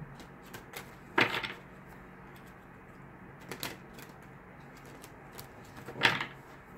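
Three short bursts of tarot cards being riffled and shuffled, spaced a few seconds apart, close and crisp against a quiet background.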